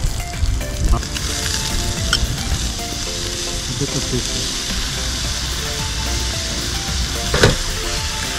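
Mackerel stir-fry with ginger sizzling and frying in a pan outdoors, a loud, continuous crackling hiss broken by occasional sharper clinks and scrapes from stirring.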